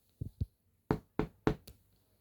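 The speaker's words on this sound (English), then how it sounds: "At that exact moment there came a knock at the door." Knocking at a door in a children's storybook reading: two soft, dull taps, then a pause and four sharper, louder raps in a quick, uneven rhythm, heard alone with no voices.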